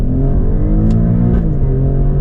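An Alfa Romeo Stelvio Quadrifoglio SUV accelerating hard, heard from inside as a loud, steady engine roar with rising pitch, dipping slightly at a gear change before climbing again.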